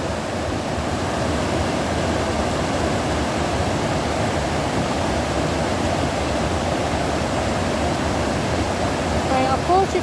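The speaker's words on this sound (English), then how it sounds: "just let you hear the roar of the water" Water roars at Yankee Pier as a steady, loud, unbroken wash that holds its level for the whole stretch, with no pauses or distinct splashes standing out.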